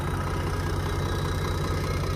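A tractor engine idles steadily and loudly up close, a low rumbling pulse without pause. Its fuel tank needs cleaning, with diesel not flowing properly from the tank.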